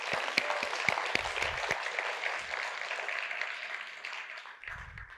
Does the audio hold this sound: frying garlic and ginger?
no